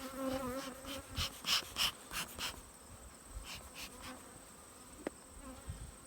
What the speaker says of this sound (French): Les abeilles sont full agressives.